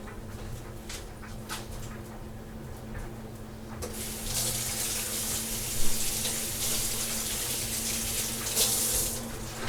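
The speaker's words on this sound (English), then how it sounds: "I'll wash my hands." A kitchen sink tap runs in a steady hiss while hands are washed under it, the flow splashing louder partway through over a low background hum.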